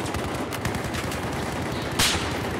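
Battlefield 4 gunfire crackles in rapid automatic bursts, dense and loud, with a sharper blast near the end.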